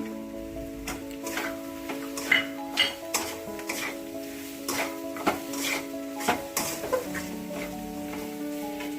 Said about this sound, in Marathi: आणि आता हे हलवून घ्यायचं आहे सोयाबीन टाकल्यानंतर चांगलं बऱ्यापैकी